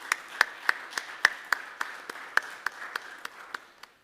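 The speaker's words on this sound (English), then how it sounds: "Let's give these folks a round of applause for volunteering for our community." A small audience at a regular town council meeting gives a sparse, slow round of applause, with individual claps spaced apart in a quiet room.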